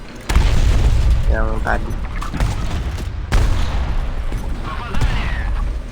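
Tank cannon shells boom in War Thunder Mobile, several heavy, close blasts a few seconds apart over rumbling engine noise, with someone talking briefly.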